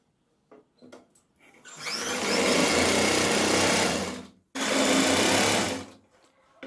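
Sewing machine stitching lining onto a blouse sleeve, two close continuous whirring runs of about two and a half and one and a half seconds, separated by a short pause, with faint handling clicks before.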